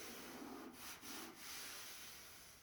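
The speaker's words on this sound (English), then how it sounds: "So I got to sand these down" Quiet rubbing and scraping of hand-sanding paint drips on a 1969 Camaro car door, a few soft strokes against a faint background hiss.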